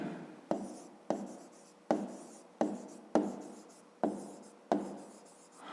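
Pen strokes scratch across paper during a fifth-grade maths exercise, about eight regular writing bursts each starting sharply and tapering off, close and clear with no talking.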